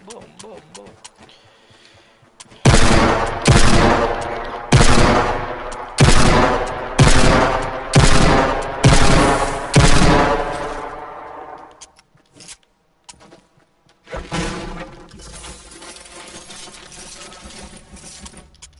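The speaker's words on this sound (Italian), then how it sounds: "Sentivo spara colpi di Deagle" Desert Eagle pistol fire in Fortnite: about eight loud, heavy shots at a steady pace, each ringing out, then quieter game noise follows.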